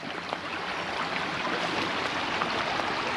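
A small brook flows steadily with a continuous, even wash of water that stays moderately loud throughout with no speech.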